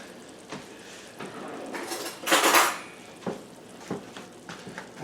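A metal spoon scrapes and clinks against a pan while gravy is spooned over cooked chicken, with a few close scrapes and one louder rasping pass in the middle.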